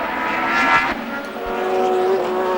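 Formula One race cars from 1970 at the British Grand Prix pass in a close pack, engines droning loudly and steadily with a rising high-pitched whine, no voices.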